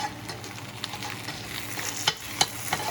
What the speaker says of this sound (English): he's gonna stir his eggs, cook his eggs. I'm gonna stir the potatoes.